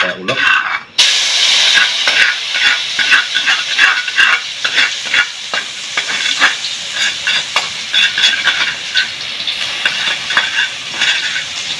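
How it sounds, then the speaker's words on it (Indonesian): Ground spice paste sizzles and spits in hot oil in a pan while being stirred, a loud, dense crackle with scraping strokes throughout, cut off briefly near the start. "ini kita goreng yang tadi kita ulek"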